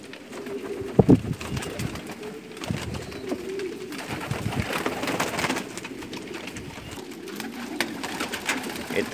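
Pigeons in a coop in Umluj, Saudi Arabia, coo in low throaty bursts, with one louder call near the start and softer cooing continuing over a busy background of rustling and movement.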